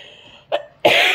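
Two coughs close up, a short one followed by a louder, harsher one, with quiet room tone before them.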